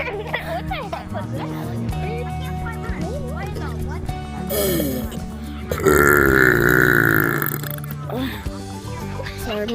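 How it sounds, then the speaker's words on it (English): A loud, long, croaking burp let out right in someone's face in a public place, a sustained rough belch of several seconds that follows chatter and short voiced noises, with people talking around it. "I got the big back burps."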